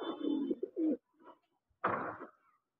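Madrasi pigeons give low throaty coos at close range, two rolling phrases separated by a brief pause and a softer murmur, with no talking.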